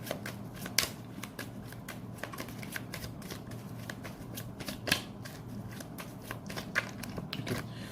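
Tarot cards are shuffled and drawn for a Capricorn reading, giving a close, steady papery rustle broken by sharp flicks and snaps as cards slide and are pulled from the deck, with no talking.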